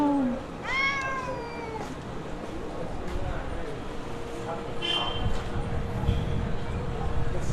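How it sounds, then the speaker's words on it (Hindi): Cats meow in the old Souq Al Balad market in Taif, Saudi Arabia: a drawn-out near meow early on, then a shorter call later, over a busy outdoor background. "बिल्लियों की लाइफ को देखें माशाल्लाह।"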